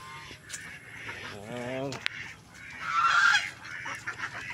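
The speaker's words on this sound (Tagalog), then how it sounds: "May mga ganso, itik, pato." Geese and ducks honk and quack on a farm, with a nasal goose honk in the middle and a louder flurry of calls later. Background chatter and rustling run under the calls.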